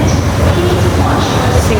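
A Singapore MRT train on the Downtown Line running, heard as a loud, continuous low rumble and rolling hiss from inside the carriage, steady throughout with no distinct speech.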